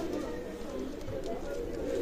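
Pakistani teddy pigeons in a loft coo steadily, soft and overlapping beneath a constant background hiss, with no clear gaps.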